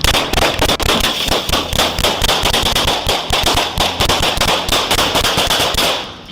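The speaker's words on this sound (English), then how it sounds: "The team reacted quickly, returning fire." Police officers return fire in a shootout, a rapid and continuous volley of sharp cracking shots, loud and close, tapering off in the final second.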